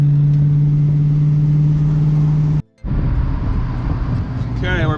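A manual car builds in engine drone, holding a steady tone before a brief gap as the clutch goes in for a gearshift, then pulling again, loud and close from inside the cabin.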